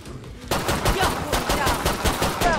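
Rapid automatic gunfire in Killing Floor 2 on a farmhouse map, a loud burst of close shots that starts abruptly after a short quiet moment and keeps up in a steady rattling rhythm to the end.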